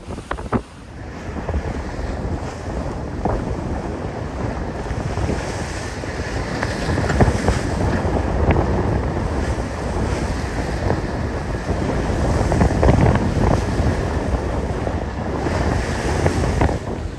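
Steady roar of sea waves and gusting wind against the microphone aboard a sailboat beating close-hauled in 15-20 knot winds toward Nassau, loud and continuous with periodic surges of water, no talking.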